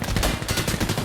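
Rapid bursts of automatic gunfire in the tactical shooter Insurgency: Sandstorm during an esports league match, loud and dense, with overlapping shots rattling continuously throughout.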